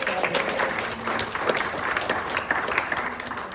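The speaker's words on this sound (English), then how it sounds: "Yeah, we can clap." A church audience at a Sunday service claps together in a steady, moderately loud burst of applause that carries on for several seconds.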